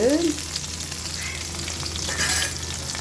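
Shallots and green chillies frying in hot oil in a pan, giving a steady close sizzle with stirring scrapes and a brief clatter near the start.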